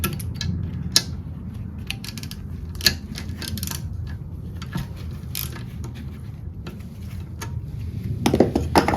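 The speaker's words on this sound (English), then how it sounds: "Now we'll just take the 2 bolts off that hold this bracket on there." Sharp metallic clicks and ratcheting taps from a wrench loosening two bolts on a Cub Cadet engine bracket, scattered and close against a low steady background hum, no talking.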